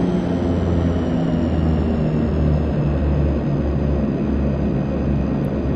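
A DHC-6 Twin Otter taxiing in the FSX flight simulator game, its steady twin turboprop engine drone continuous and loud with a high whine, no talking.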